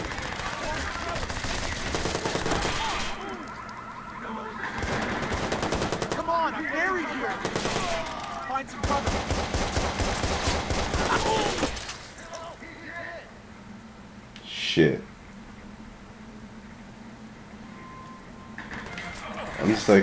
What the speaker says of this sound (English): I'm just like fucking shooting everything up